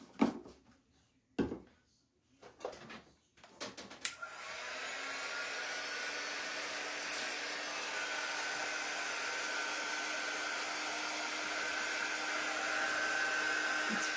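A hair dryer blowing on freshly painted black drum decor switches on after a few clicks and knocks, then runs as a loud, steady whirring roar for the rest of the time, close and alone.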